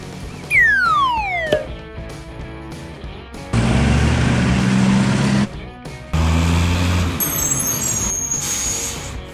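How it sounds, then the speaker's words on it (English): A cartoon monster delivery truck in a kids' vehicle game: a falling whistle-like tone opens, then a loud rumbling truck engine runs for a couple of seconds, stops, and starts again, joined near the end by a high hissing squeal like an air brake. "Find the monster delivery truck."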